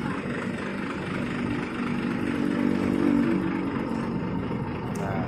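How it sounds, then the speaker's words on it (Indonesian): A night bus sits parked at a Lebak Bulus terminal with its diesel engine still idling, a steady close low rumble with a faint drone layered over it throughout. "Ini mesin masih menyala guys."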